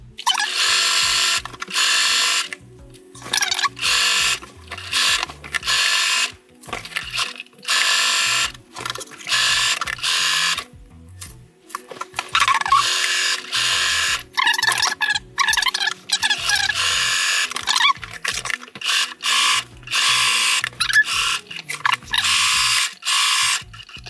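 A sewing machine stitches lines across a quilt in long, loud whirring bursts that start and stop repeatedly, the needle mechanism chattering rapidly up close with brief pauses between runs.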